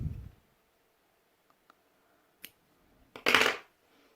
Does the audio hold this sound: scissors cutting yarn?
yes